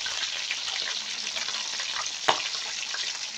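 Milkfish (bangus) fries in hot oil, giving a steady, close crackling sizzle throughout with one sharper spit or pop partway through; no voices.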